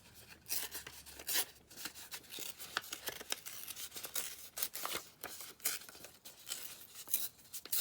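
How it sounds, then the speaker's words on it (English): Paper is torn by hand for a handmade folio, giving a series of quiet, close, crisp ripping bursts in irregular rhythm, with no talking. "Just tear it across the top because I just don't like the straight lines."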